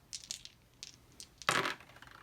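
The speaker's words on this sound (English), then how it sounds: "So I'm rolling 4 dice against the yellow Dow." Four dice rattle and tumble onto a tabletop for a board game attack roll, a few light clicks leading into a louder clattering burst, quiet and close.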